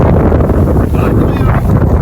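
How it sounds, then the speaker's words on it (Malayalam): Strong wind buffets the microphone in a loud, low, continuous roar that surges and dips over two seconds. "ഇവിടെ നല്ല കാറ്റുണ്ട്"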